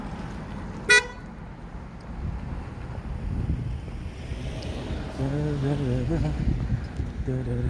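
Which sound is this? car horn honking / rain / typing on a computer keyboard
car horn honking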